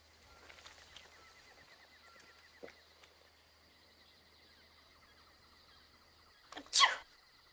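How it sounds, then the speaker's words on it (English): A single sharp sneeze near the end, loud and close, following several seconds of quiet night ambience with faint chirps and ticks. "I'd know that sneeze anywhere."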